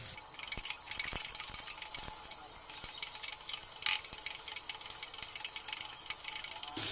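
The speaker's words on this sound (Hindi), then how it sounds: "वो प्याज को जो है कलर चेंज होने तक तेल में फ्राई कर लेंगे।" Chopped onions frying in hot oil in a home kitchen, a steady close hiss and crackle with occasional stirring scrapes and clinks throughout, fairly quiet.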